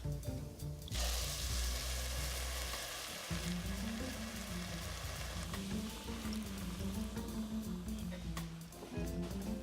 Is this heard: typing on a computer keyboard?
no